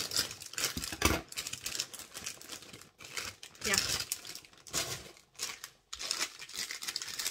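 Plastic Sinterklaas candy packaging, including bags of kruidnoten, crinkles and rustles loudly up close in irregular bursts as the bags are handled and opened, with people talking intermittently.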